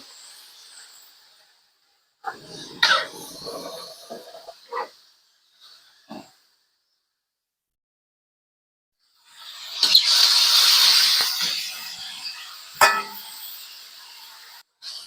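Pork pieces sautéing in a pan for menudo, with bursts of sizzling and stirring separated by quiet gaps, the loudest stretch of sputtering frying in the later part.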